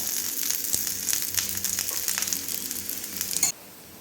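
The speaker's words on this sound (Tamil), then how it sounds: "இப்போ வந்து சுற்றி எண்ணெய் ஊற்றிக்கலாம்" Ragi and drumstick-leaf adai sizzles on a hot pan as oil is poured around it, giving a steady close crackle and hiss with scattered pops that cut off abruptly near the end.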